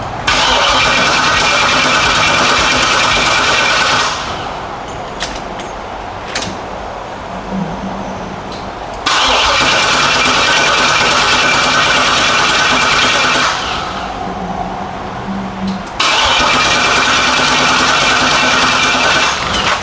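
A G-body car engine cranking without catching, three long loud starter bursts of about four to seven seconds each, separated by quieter pauses, close by.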